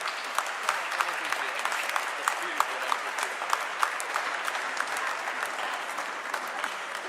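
A congregation applauds inside a basilica during an ordination of priests and deacons, sustained dense clapping with sharp individual claps standing out, steady and moderately loud throughout.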